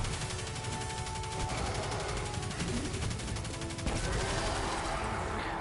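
The Risk Runner submachine gun in Destiny 2 fires in rapid sustained bursts, a fast rattling stream of shots with heavy low thumps, loud and close, continuing almost without pause.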